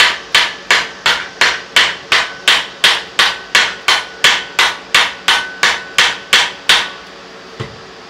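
Rhythmic hammer blows strike a blacksmith's flatter being upset, about seventeen sharp metallic ringing hits at a steady pace, loud and close, followed by one fainter knock.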